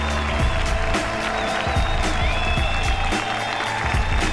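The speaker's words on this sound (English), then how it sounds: "Everybody should stand up and applaud them." A boxing crowd at a Hell Boxing Kings semifinal claps and cheers after the fight, with irregular sharp claps over a broad roar.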